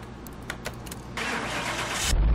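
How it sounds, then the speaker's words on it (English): A car engine in Car Mechanic Simulator 2021 is keyed and cranks over, catching into a loud steady hiss-rich roar after a few brief clicks and taps. "let's start this bad boy up. See what it sounds like."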